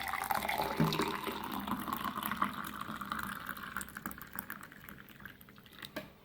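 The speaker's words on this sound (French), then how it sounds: "je continue en mettant de l'eau chaude" Hot water poured into a container for a home remedy, a steady liquid rush that tapers off, with faint clicks and taps near the end and no voices.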